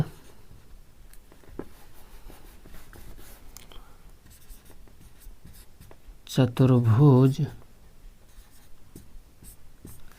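Chalk or marker writing on a board during a class 8 maths lesson, faint scratchy strokes and taps running under a teacher's steady talk, with a brief louder voice burst partway through.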